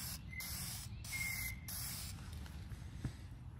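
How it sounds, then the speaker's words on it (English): Short bursts of Dupli-Color vinyl aerosol paint spray hiss close by onto boat seats, three quick sprays in a row followed by a longer fading spritz. "Shaking up the can, and we're gonna just do a couple coats."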